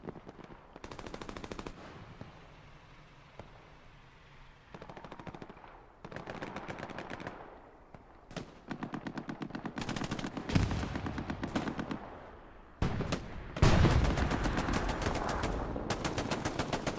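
Gunfire in the World War II shooter game Hell Let Loose during a night battle: sustained bursts of rapid automatic fire mixed with single sharper shots, loud and continuous, growing heavier toward the end.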